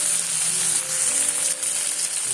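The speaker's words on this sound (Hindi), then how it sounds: "टिंडों को डाल के मिक्स करूंगी अच्छे से" Round gourd (tinda) sizzling as it goes into a masala pan: a steady, close hiss of frying oil with faint stirring underneath, continuous and fairly loud; no voices.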